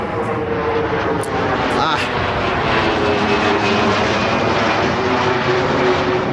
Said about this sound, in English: Just waiting for that plane.